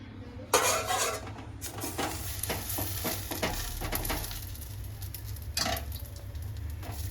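Dabeli sizzles in oil on a pan, with a steady frying hiss under repeated clinks and scrapes of a utensil against the metal, close and fairly loud throughout.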